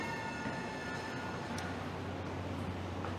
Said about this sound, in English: Is that the train? I think so.